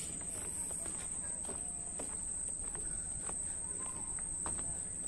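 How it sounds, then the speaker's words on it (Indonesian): Crickets chirp in a steady, high, continuous trill in the Gununganyar mangrove forest, with faint footsteps and scattered soft sounds underneath. "Ada suara apa namanya? Jangkrik ini."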